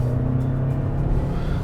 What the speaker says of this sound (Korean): 근데 물론 이 차도 풀드로틀을 하게 되면 엔진이 애를 쓰죠.